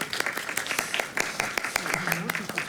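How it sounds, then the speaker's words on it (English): Conference attendees at a security panel clap to welcome the panelists, a lively patter of many overlapping claps at close range, with faint voices mixed in beneath the applause. "So please give them a round of applause and a warm welcome."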